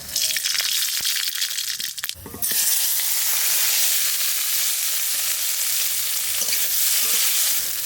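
Dried red chilies and mustard seeds hit hot oil in a village kitchen, a dense, loud sizzle that flares sharply after a brief pause and a clatter, then crackles steadily and close with no talk.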